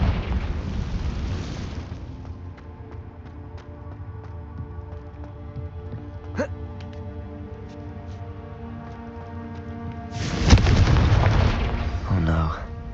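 Blasting spell explosions from Hogwarts Legacy boom out, with a heavy burst at the start and another loud rumbling blast near the end over a low sustained drone and faint musical tones.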